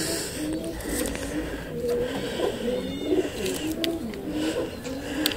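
Pigeons kept in a loft coo on a winter morning, several soft rolling calls overlapping in a steady repeated rhythm, close and moderately loud, with faint clicks and rustles.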